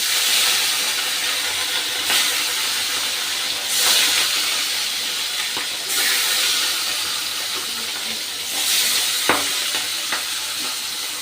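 Fish pieces fry in hot oil with a loud, continuous hissing sizzle that swells in periodic surges, with occasional sharp crackles and clicks.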